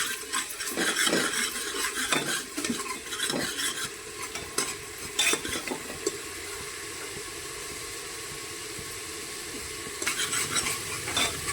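Ginger garlic paste frying in a pan over a gas flame, a steady close sizzle with clinks and scrapes of a stirring spoon, busier in bursts and settling into an even hiss in the middle.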